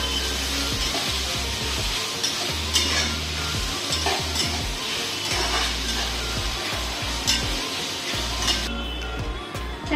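Two finely chopped onions frying for paneer kadhai masala, a loud continuous sizzle with frequent scraping and knocking of a spatula stirring in the pan, no talk.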